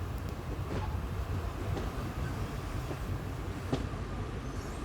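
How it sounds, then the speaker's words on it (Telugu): A MEMU express train rumbles steadily as it pulls into a platform at Rajahmundry railway station, a continuous close, low roar with a few faint clanks and no voices. "ప్లాట్ఫామ్ నెంబర్ 4 మీదకి అయితే మన ట్రైన్ ఆగుతుంది"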